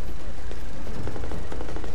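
Rapid machine gun fire in the zombie shooter game Contagion, a dense continuous burst of loud shots lasting about two seconds with no talk.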